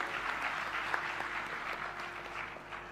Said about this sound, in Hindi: मैया के लिए बार ताली बजाइए।